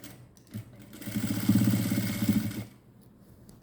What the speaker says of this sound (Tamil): இந்த லைனிங் துணி கொஞ்சம் கூட வெளியில் தெரியக்கூடாது ஓரத்தில் வச்சு ஸ்டிச் பண்ணிட்டு வாங்க